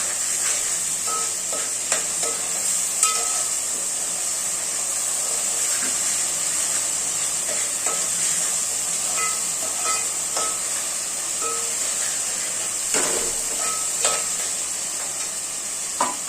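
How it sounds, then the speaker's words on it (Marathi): Spices tempering in two spoonfuls of hot oil for a Malvani-style mutton curry: a continuous close sizzle with occasional pops and scraping stirs, steady and unbroken, without talking. "दोन चमचे घातले आहे तेलामध्ये छान तडकायचे आपल्याला"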